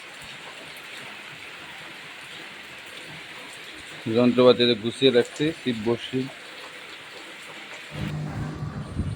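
Rain falls steadily outdoors during a traditional catfish fishing trip, a constant hiss under a voice in the middle, with a low thunder rumble rolling in near the end.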